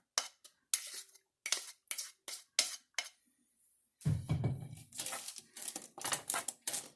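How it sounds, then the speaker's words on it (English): Chunks of butternut squash and onion clatter onto a slightly greased, foil-covered pan in a quick series of sharp taps, then a longer, louder scraping rustle follows as they are spread out nice and thin. "we're going to spread them out on a foil covered pan, slightly greased"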